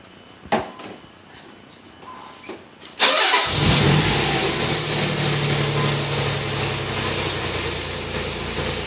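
A few faint clicks, then a car engine cranks and catches, settling into a steady, rumbling idle close by.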